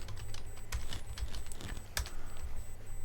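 Keys on a computer keyboard are tapped in quick, uneven bursts, close and crisp, with brief pauses between runs of keystrokes.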